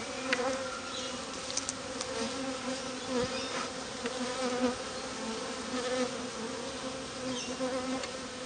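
Honey bees buzz thickly around an open hive in winter, a dense steady drone of many wings close by that continues throughout with faint clicks and no talk.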